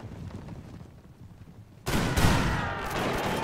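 Musket volley fire erupts suddenly in a video game battle against a Mahdist force, a loud dense crackle of many shots bursting at once after a quiet stretch, then sustained rattling fire with hoof clatter beneath.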